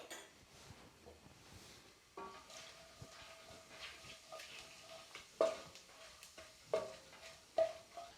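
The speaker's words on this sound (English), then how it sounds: "you just need to temper these whole spices for about 45 seconds will do" Cumin seeds, Kashmiri chilies and other whole spices tempering in hot oil in a pan, a steady soft sizzle with occasional louder crackles and stirring clinks, close and alone without talk.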